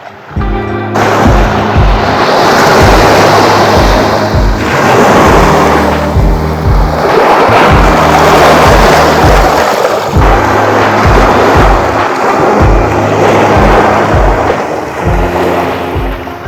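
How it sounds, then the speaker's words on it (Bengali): Surf rolling onto Patenga sea beach in Chattogram, loud and close, with repeated swells of broadband rush over a steady low rumble and no voices. "চলুন ঘুরে দেখা যাক চট্টগ্রামের পতেঙ্গা সমুদ্র সৈকত"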